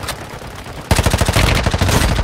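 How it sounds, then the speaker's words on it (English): Rapid bursts of automatic gunfire from Call of Duty Warzone on Rebirth Island, loud and close, starting abruptly and continuing in a dense rattling stream. "Oh, someone is shooting me."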